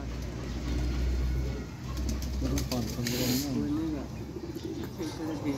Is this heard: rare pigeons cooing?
yes